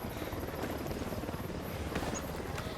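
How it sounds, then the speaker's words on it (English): A helicopter flies in Ghost Recon Wildlands, its steady rotor thrum loud and continuous throughout, with no talk over it. "Unidad chopper, stay low."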